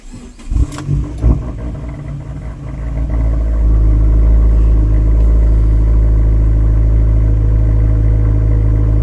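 A Fiat 500 Abarth engine turns over and settles into a loud, steady idle while warming up, a close, continuous low drone with no talking.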